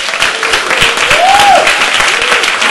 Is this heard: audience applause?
yes